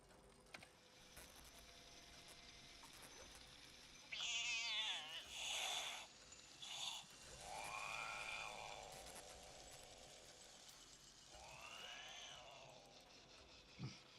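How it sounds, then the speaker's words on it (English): A toy-like electronic cat in the Fallout 76 video game gives several distinct meows and drawn-out caterwauls. They come one after another over a quiet, faintly mechanical background. "You can see I've got this with my little electronic kitty."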